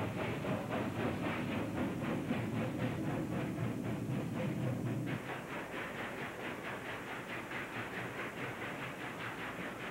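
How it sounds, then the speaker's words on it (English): A westbound freight train passes near a bridge and signal tower at Cheyenne, a steady loud rumble with rhythmic clattering wheels that shifts midway as the cars roll by, with no voices. "a scene of a westbound freight passing between the C&S Bridge by Tower A at Cheyenne"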